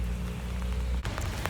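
Steady rain falling on surfaces outdoors in a town, a dense continuous patter with scattered louder drops, fairly close, with no talk.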